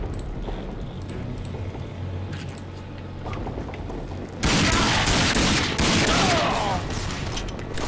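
Gunfire in the first-person shooter Rage: a steady clatter of shots under game background, then a loud dense burst of rapid fire in the final seconds.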